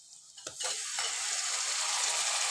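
Half a kilo of tomatoes drops into a hot frying pan for tomato curry, setting off a sudden loud sizzle after a brief clatter, and the sizzle then holds steady and close.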